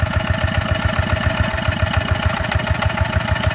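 A Yanmar F4 engine idles steadily, thumping with a fast, even low knock and mechanical rattle, close and loud with no talking.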